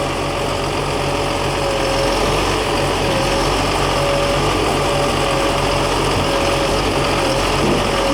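A John Deere 648GIII skidder's diesel engine runs at a steady idle close by while the machine is raised up and down, a constant droning rumble with a faint whine and no voices.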